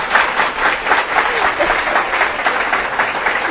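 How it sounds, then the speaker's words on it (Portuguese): Live audience at a philosophy talk applauding, a loud, full wash of many hands clapping steadily and close, with no voices over it. "Palmas, por favor."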